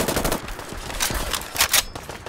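A SIG MCX rifle fires fully automatic in Fallout 4, rapid bursts of gunfire with sharp repeated cracks at close range and no talking.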